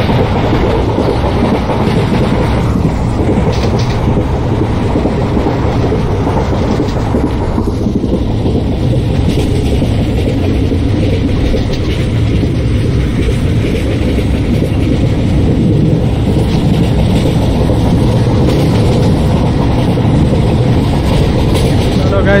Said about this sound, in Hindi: देखो गाइस कितना बड़ा है हमारा ट्रेन